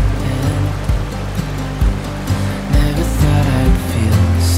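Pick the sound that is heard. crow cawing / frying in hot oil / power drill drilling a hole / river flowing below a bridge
river flowing below a bridge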